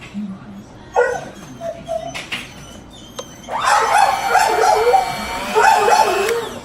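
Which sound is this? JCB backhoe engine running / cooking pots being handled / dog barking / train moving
dog barking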